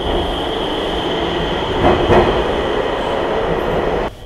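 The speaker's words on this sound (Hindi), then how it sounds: "ये अंडरग्राउंड मेट्रो है।" An underground metro train in Agra departs, with a steady close rumble and hum of the carriage and a faint whine, swelling briefly midway and dropping near the end.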